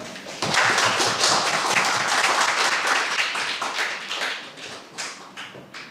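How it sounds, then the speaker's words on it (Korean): An audience at an automotive AI talk applauds as a presenter walks onto the stage. The clapping is dense and steady, starts abruptly, and stays loud before thinning slightly toward the end. No one speaks. "무대에 올라오실 때 박수로 맞아주시면 감사하겠습니다."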